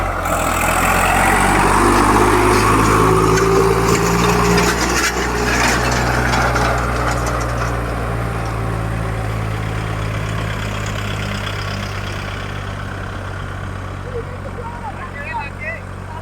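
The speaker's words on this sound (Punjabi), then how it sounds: "4x4 ਚ 855 ਜਾ ਰਿਹਾ ਬਾਈ ਪਤਾ ਲੱਗ ਰਿਹਾ ਟਰੈਕਟਰ ਲੰਘਿਆ" A Swaraj 855 tractor in four-wheel drive, pulling an 18-disc harrow in a field, rumbles with a deep, steady engine drone that slowly fades as it moves away.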